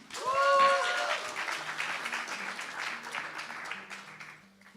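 An audience at a live music night at The Bedford gives a performer a round of applause, a burst of clapping and cheers that swells early and then tapers, with a voice talking over it.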